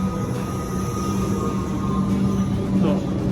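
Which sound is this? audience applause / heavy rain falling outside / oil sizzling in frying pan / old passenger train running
old passenger train running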